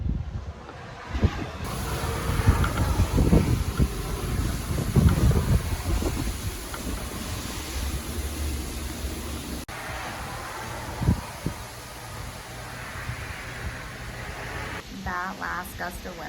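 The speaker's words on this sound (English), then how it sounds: "gust of wind that just came through was so creepy. Like, you can hear it howling" Strong wind gusts roaring outside ahead of an approaching hurricane, a steady broadband rush with surging peaks and buffeting on the microphone, under intermittent talk nearby.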